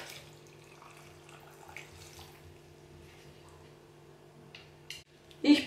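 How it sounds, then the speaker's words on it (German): Water poured from a tap over sprouted buckwheat, pumpkin seeds and sunflower seeds, a faint, soft trickle through most of the stretch, ending in a short, louder gush of splashing. "Schön Wasser drauf."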